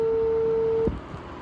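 A telephone call being placed gives a ringback tone: one steady, clear tone for just under a second that then cuts off, leaving quiet background noise.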